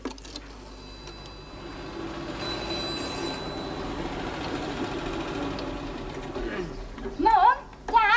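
Household telephone ringing in a quiet room, a faint sustained ring followed by a couple of louder trilling bursts near the end, with a brief voice in the background.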